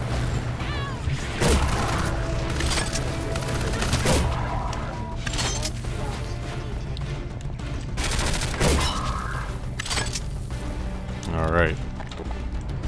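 Gunfire bursts in the video game Half-Life 2, rattling volleys mixed with game effects and clanks over a dense background, with a voice talking over part of it.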